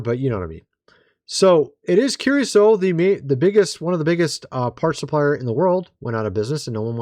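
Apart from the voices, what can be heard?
No distinct noise like a dog, phone or traffic.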